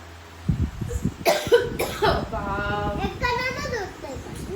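A few sharp coughs break out near the start, followed by a voice and chatter in the background.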